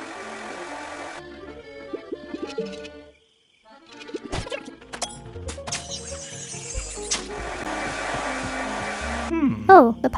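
Hair dryer in the video game The Spirit and the Mouse, a steady whirring blow that cuts out briefly and returns, with game music and effects around it.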